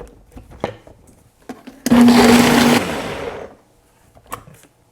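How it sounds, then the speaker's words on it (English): A blender whirs loudly for about a second, pureeing cashews and onion powder into a cream sauce, then winds down, with quiet kitchen clatter before and after. "Now we're going to blend this first 4 ingredients until creamy."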